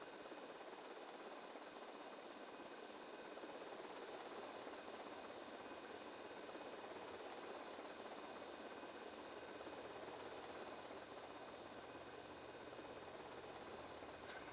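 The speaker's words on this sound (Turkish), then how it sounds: "Helikopteri patlatacaklar." Helicopter in GTA Vice City Definitive Edition, a steady rotor and engine drone holding constant throughout at a moderate, distant level with no talk over it.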